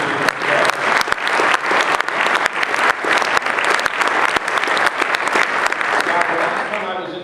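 A conference audience at a natural gas vehicle summit in Ohio bursts into sustained, even applause, many hands clapping close and loud for several seconds with little else over it.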